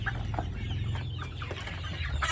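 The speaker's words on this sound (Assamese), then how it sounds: "ইয়াত টোটেল 100 চৰাই আছে" A flock of about 100 farm chickens clucks steadily, several birds overlapping in a busy, close-up farmyard chorus with no talking.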